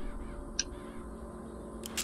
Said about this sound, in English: I have a new creepy power where I can shoot out crows to stun my enemies and make them take more damage.